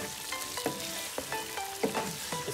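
Green onion, coriander, mint and green chilies fry in a karahi for a chicken seekh kebab malai karahi, giving a steady close sizzle broken by several sharp scraping stirs of a spoon against the pan.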